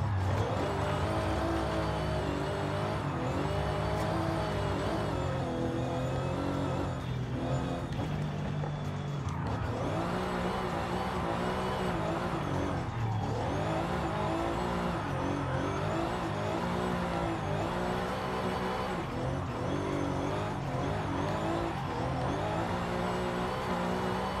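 A 700-horsepower Mercedes in Forza Horizon 5 revs hard in sixth gear, its engine droning continuously and loud with rising and falling pitch and occasional tire squeal, all through the whole stretch.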